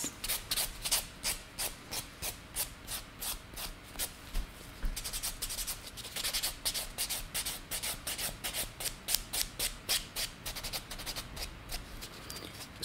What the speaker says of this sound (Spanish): Retiramos todo el esmaltado permanente y van a quedar listas para volver a esmaltarlas.